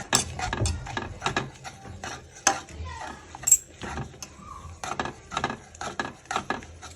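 A spoon stirring a custard and milk mixture in a pan, with irregular metallic scrapes and clinks against the pan in uneven bursts and short pauses between them.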